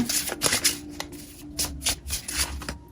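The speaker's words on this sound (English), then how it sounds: "I was shuffling those backwards" A deck of cards is shuffled during a psychic reading, with quick riffling bursts in an uneven rhythm, close and fairly soft.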